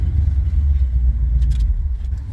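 A squarebody truck engine with an exhaust leak runs steadily, a close, continuous low rumble with a slight uneven throb and no voices.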